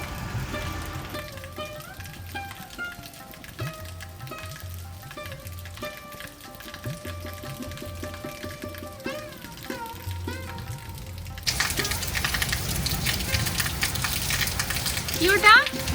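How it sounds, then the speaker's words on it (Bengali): A heavy downpour, the first rain of the year, breaks into a loud, steady roar partway through, following a quieter stretch with faint voices and tonal sounds. "বছরের প্রথম অঝোর ধারায় বৃষ্টি, একদম ঝমঝম করে।"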